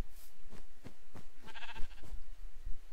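A blocky Minecraft sheep bleats several times in short nasal bursts, close and clear, against a quiet night backdrop.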